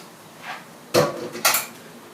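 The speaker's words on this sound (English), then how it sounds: "At this stage, throw the fillets of broccoli in," Broccoli florets dropped into a pot of half-cooked pasta, making two sharp clattering knocks against the pot in quick succession after a faint earlier rustle.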